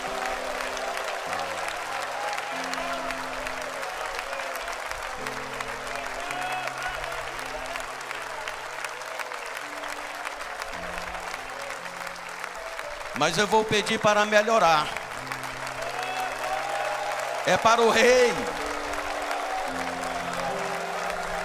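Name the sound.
congregation applauding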